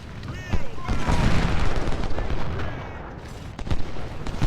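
Gunfire in Ultimate General: Civil War during the Bull Run battle: dense crackling musket volleys and scattered shots rolling continuously at mid distance, with someone talking over them.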